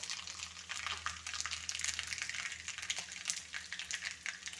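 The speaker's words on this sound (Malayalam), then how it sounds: "ചൂടായ എണ്ണയിലേക്ക് നമ്മൾ കടുക് ഇട്ട് കൊടുത്തിട്ടുണ്ട്." Mustard seeds spluttering and crackling in hot coconut oil while cooking pepper chicken, a dense steady sizzle with scattered sharp pops throughout, close and alone without talk.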